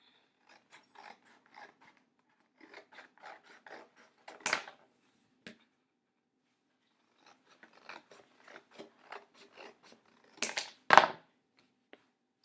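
Scissors cut the flaps off a cardboard box, producing two clusters of crunchy, ratcheting snips with quiet gaps between them and no talking.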